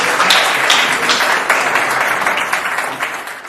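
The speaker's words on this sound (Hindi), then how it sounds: "जोरदार तालियां बजाकर आमंत्रित करिए" Enthusiastic audience applause welcomes a Hindi poet from Allahabad onto a poetry stage, a dense, steady wash of clapping close by that holds for several seconds and slowly eases.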